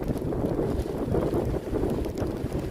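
Strong easterly wind batters the microphone during a storm surge at the St Lucia estuary, a constant heavy buffeting roar with gusty low rumble and no break throughout.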